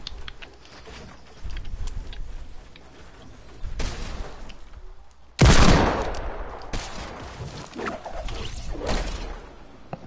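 Video game gunfire: scattered shots and rattling bursts of varying loudness, with one loud, close heavy blast about midway, over busy game background noise.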